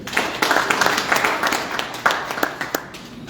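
An audience at a Kaduna state workshop claps for a local government council leader, giving scattered, uneven hand claps across a few seconds that stay steady at a moderate level with no speech over them.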